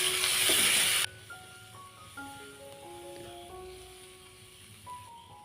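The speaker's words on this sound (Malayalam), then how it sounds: "ആവശ്യത്തിന് കറിവേപ്പില ഇട്ട് കൊടുക്കാം." Curry leaves crackle and hiss in hot oil while frying for a Kerala-style chicken parts pepper roast, a loud burst of sizzle at first settling into softer steady frying with faint stirring.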